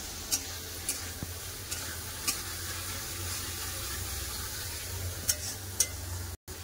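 Pre-fried eggs are stirred into sizzling egg curry masala that has released its oil. The frying is soft and steady, with a few light spoon taps spaced across the clip and no talking.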